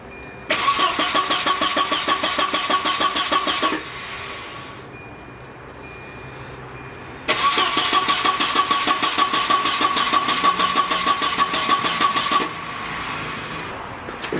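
A Volvo 940 with a newly replaced inline fuel pump is cranked twice; each long starter whir runs several seconds, separated by a quieter stretch with a faint steady hum, with no clear catch into idle.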